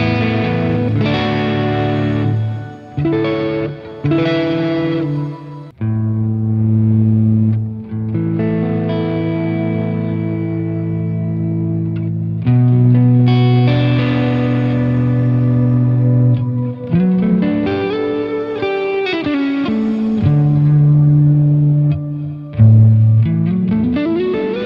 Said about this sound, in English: The last one on the reverb is called The Special